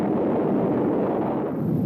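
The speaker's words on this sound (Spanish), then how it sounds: "Bomba pequeña." A small bomb explosion rendered as a deep, sustained rumbling roar, dense and low, continuing steadily without a distinct sharp onset across the short span.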